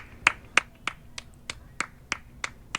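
Priyanka Chopra claps alone from a balcony over a huge empty yard, about nine sharp, evenly spaced claps with a slight echo, fairly close and distinct against quiet surroundings.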